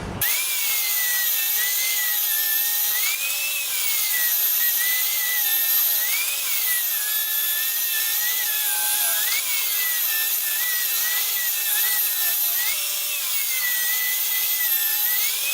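A power saw rips walnut strips for an end grain cutting board, its high steady whine holding for the whole stretch with small rises and dips in pitch as the blade meets the wood. The cutting is continuous, close and loud, with no talk.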